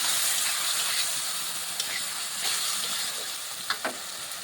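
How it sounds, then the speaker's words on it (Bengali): Tomato and salt sautéing in a pan for a cauliflower dish, giving a steady loud sizzle and hiss with a few sharp clicks of stirring near the end. "ভালোভাবে কষিয়ে নিচ্ছি"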